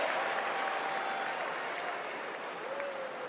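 Sustained applause from a large convention audience at Obama's Democratic National Convention speech, a dense steady roar of clapping that stays loud throughout with a faint crowd murmur.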